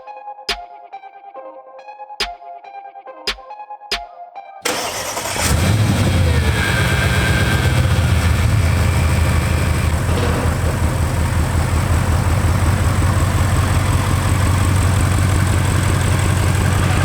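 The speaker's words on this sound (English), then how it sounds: "We got to open those valves up and give it a few revs." Audi RS7 with an ARMYTRIX valved exhaust fires up after several sharp clicks, then settles into a loud, steady, deep idle with some revving, heard close by with no talking.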